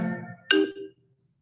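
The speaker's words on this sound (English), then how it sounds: "It's a very good ringtone." A phone ringtone sounds during an online parliamentary webinar: a short burst of bright tonal notes followed by a single sharp chime that rings out and fades to silence.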